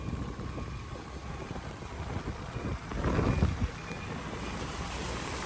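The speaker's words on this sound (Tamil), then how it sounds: "காற்று முடக்கிட சுற்றுற மாதிரி காற்றடிக்குது" Strong gusty wind from Cyclone Fengal roars steadily outdoors, buffeting the microphone, and swells into a louder rushing gust midway.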